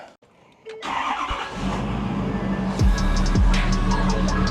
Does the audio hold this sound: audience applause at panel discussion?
no